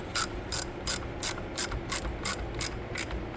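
Steady ratcheting clicks from a wrench snugging down the bar nuts on a STIHL chainsaw, about ten crisp, evenly spaced bursts, close and clear with no talk.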